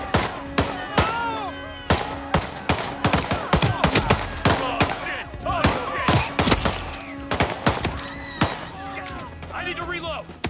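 Rapid gunfire rings out in Hitman VR during a rampage aboard a yacht, sharp close shots in quick irregular volleys across the whole stretch, with a voice talking and exclaiming over the shooting.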